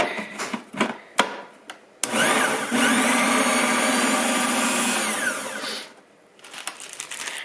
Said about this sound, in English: I'm just going to kind of push it all back down in there and grind it just a little bit more.